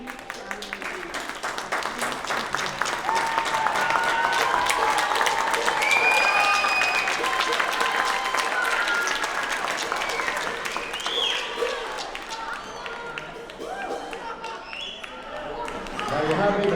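An audience at a live evening event bursts into sustained applause, a thick wash of clapping with crowd voices that swells, holds for many seconds and then gradually thins out.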